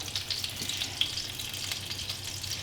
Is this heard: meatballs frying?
yes